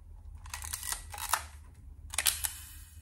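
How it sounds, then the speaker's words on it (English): A Topcon Auto 100 35mm SLR film camera with a leaf shutter fires twice, each a loud, close mechanical clatter of several quick clicks and whirs, over a low background hum. "the reason it makes that crazy sound and it's super loud, it has a leaf shutter"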